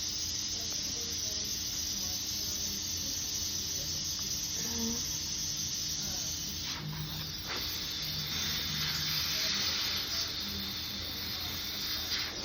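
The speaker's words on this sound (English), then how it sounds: "It kind of reminds me of something they use at the dentist office, the air compressors they have." A very small air compressor runs in a hospital epilepsy monitoring unit, giving a steady broadband hiss that stays even throughout. A couple of faint clicks sound underneath.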